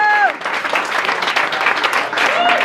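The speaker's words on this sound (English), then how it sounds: "everybody give him a big round of applause for doing that" Live show audience breaking into sustained applause and clapping, loud and dense throughout, with a few voices and whoops rising above the crowd noise.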